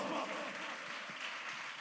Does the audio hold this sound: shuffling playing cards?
no